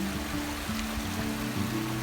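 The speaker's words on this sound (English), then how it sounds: "A wee water slide." Water runs down a small natural rock slide near a hill loch, a continuous close rushing and gurgling with a low tonal burble underneath, steady and without talk.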